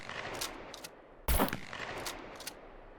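A shotgun fires in the SCUM video game, one loud, sharp blast standing out above several fainter, shorter bangs spread across a few seconds of quiet background.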